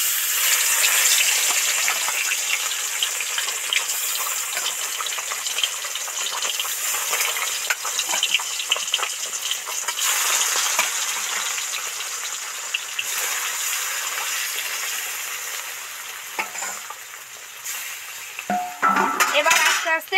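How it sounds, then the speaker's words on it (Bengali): Bata fish deep-frying in oil in a wok gives a loud, continuous sizzle and crackle. Occasional metallic scrapes of a utensil against the pan sound near the end. "এবার আস্তে আস্তে ডিপ ফ্রাই করে ভাজতে থাকবো"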